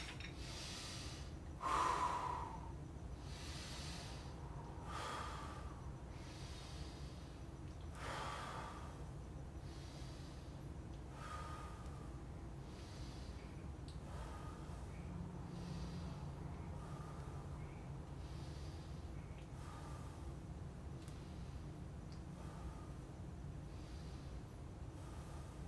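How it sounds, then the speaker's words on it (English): A quick set of deliberate breathing-exercise breaths, each a strong, audible inhale or exhale repeating every few seconds over a steady low background hum, with one sharper gasp near the start. "We're gonna do a quick set of breaths"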